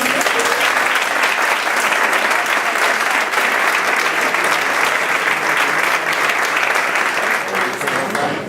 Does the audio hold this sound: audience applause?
yes